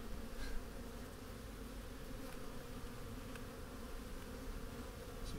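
Honeybees buzz continuously around an open hive as a beekeeper lifts and inspects a frame, a dense, steady droning swarm close to the microphone, fairly quiet overall, with no talking.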